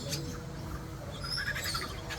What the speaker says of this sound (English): Sounds sort of magpie or Kurrungi